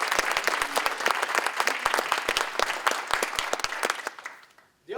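Audience applause at a celebratory university alumni scholar event, dense and steady clapping from a roomful of people for about four seconds before fading out.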